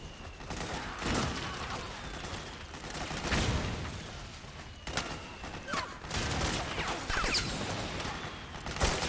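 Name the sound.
gunfire from enemy PMC soldiers in Metal Gear Solid 4 video game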